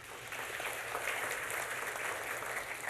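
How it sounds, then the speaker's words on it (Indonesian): Audience applause fills a seminar hall on finding a life partner, a dense, steady patter of many hands clapping at once, holding at an even level for the whole stretch with no voice above it. "Beri tepuk tangan."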